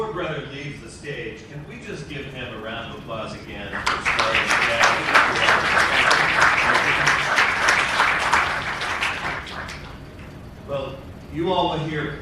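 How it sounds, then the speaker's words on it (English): An audience in a hall breaks into sustained applause for several seconds, dense clapping swelling then fading, with someone speaking before and after it. "can we just give him a round of applause again for starting?"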